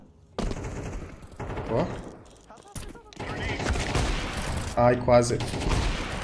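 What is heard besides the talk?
gunfire in the video game Counter-Strike 2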